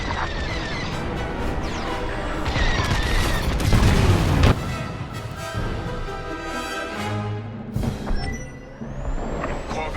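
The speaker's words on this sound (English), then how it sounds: "Don't be too close when that detonates." Core detonation in the Star Wars Squadrons video game, a loud booming blast with crackling rumble and debris-like bursts, followed by lingering hissing and mechanical tones as the explosion fades.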